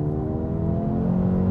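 A Mercedes-AMG A35's 2-litre turbocharged four-cylinder pulls hard under steady acceleration, a continuous droning engine note with a slowly climbing pitch, heard close from inside the car.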